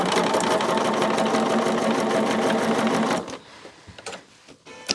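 A sewing machine stitches white cornerstone pieces onto quilt border strips, a loud close rapid mechanical chatter running steadily for about three seconds, then stopping into quiet handling noises and a few light clicks.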